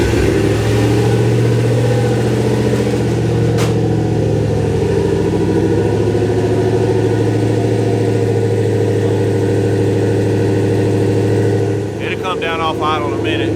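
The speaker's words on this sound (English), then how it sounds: "it's gonna be a real cold start on my car" Car engine just after a cold start on a 58-degree morning, settling into a steady, loud idle with a deep even drone; a voice breaks in briefly near the end.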